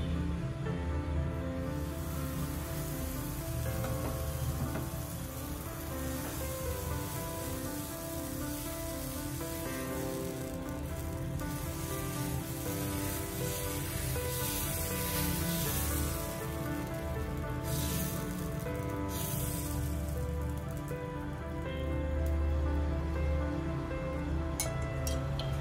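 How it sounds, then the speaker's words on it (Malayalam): Dosa batter spread on a hot pan at a Thattukada-style stall, a sustained hiss of sizzling like steady rain that continues at an even level throughout, with no talk over it. "അടുത്ത മാവ് ഒഴിച്ചു കൊടുക്കാം"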